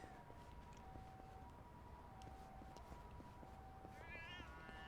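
Cat meowing inside a video game, a faint, thin mew with a rising and falling pitch near the end, set against a steady low background hum and a few faint electronic tones.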